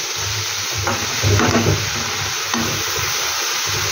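Potatoes, beans, onion and tomato fry in a pan with a steady sizzle and occasional stirring scrapes, continuous and close, no voices.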